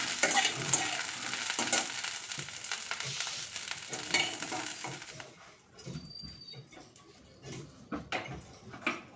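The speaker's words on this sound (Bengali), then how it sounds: "কড়াইতে কিছুটা তেল দিয়ে দিলাম। এখানে ফুলকপিটা ভেজে নেব।" Cauliflower fries in oil in a wok under a dense, close sizzle, with repeated scraping and clinking as it is stirred. Toward the end the frying quietens and the separate stirring knocks stand out.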